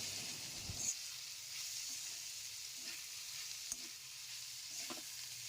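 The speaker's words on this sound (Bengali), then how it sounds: "আস্তে আস্তে সেগুলোকে খুন্তি দিয়ে এপিট ওপিট করে ভালোভাবে নেড়ে নিলাম।" Poha is turned with a spatula into fried vegetables in a pan, making a faint, steady sizzle with a few soft scrapes and taps, and no voices.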